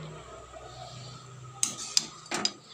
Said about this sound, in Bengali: এখন নুডলসটা দিয়ে ভালো করে মিশিয়ে নিচ্ছি সমস্ত সবজি আর ডিম ঝুড়ির মধ্যে